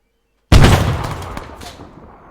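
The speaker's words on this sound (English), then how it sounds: "Oh, that's a grenade." A single grenade blast on a military firing range, a sudden loud boom out of silence followed by a long rumbling decay.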